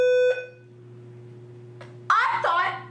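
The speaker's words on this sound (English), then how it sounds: "The fire alarm test is now complete." A fire alarm test beeps with a steady electronic tone that cuts off early, leaving a low hum, before a brief voice breaks in near the end.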